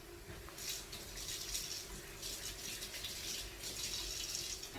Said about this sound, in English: Wash my hand real quick.